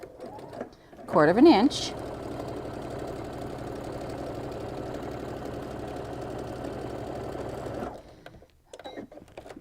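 A sewing machine stitches quilt pieces for an attic windows block, a steady mechanical whir running for several seconds at moderate level after a short burst of talk, then stopping.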